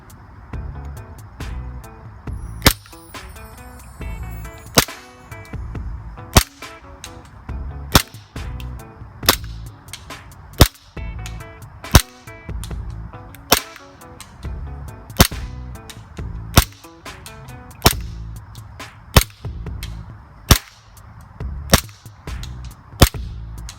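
A WE Glock airsoft gas pistol fitted with a Maple Leaf hop-up fires BBs outdoors. Sharp single cracks come roughly every second or so, close and loud, over a quiet background.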